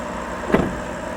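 An electric car's power brake gives a single brief whirring thunk, close and moderately loud, in a quiet cabin.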